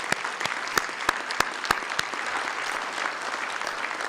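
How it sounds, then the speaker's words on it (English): A round of applause from an audience at the Meharry Circle of Friends 2023 evening event. Many people clap in a steady, dense crackle, with several sharper individual claps standing out near the front in the first two seconds. "And let's give them a round of applause."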